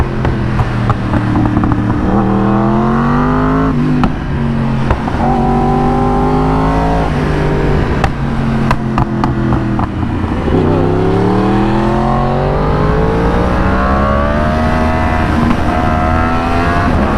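A Yamaha R1M ridden hard on a highway makes a loud, steady engine howl right up close, with its pitch climbing and dropping through repeated gear changes and wind roaring over it.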